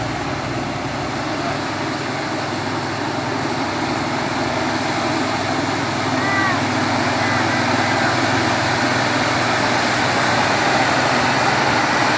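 An overloaded Mitsubishi Fuso truck engine labors uphill on Bukit Kodok, a steady, loud, low drone that holds throughout with little change, heard up close.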